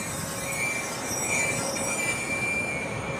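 Worn brakes on a taxi van at Auckland Airport give a steady, piercing high-pitched squeal that holds for the whole stretch over a dense roar of background noise, with no voices.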